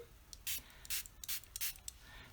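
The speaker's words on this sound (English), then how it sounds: "I also have a little mister which I will just spray the paints with to activate them" Four quick spritzes from a small spray mister onto watercolor paints, short hissy bursts close by with brief pauses between them in a quiet room.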